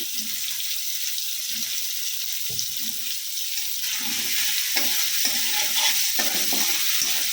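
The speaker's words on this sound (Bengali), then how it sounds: "পনিরটাকে আমি এবার উঠিয়ে নেব হালকা ভেজেছি পনিরটা আমি" Paneer frying in a pan gives a steady close hiss, while repeated scraping strokes of a spatula stir the pieces, growing busier toward the end.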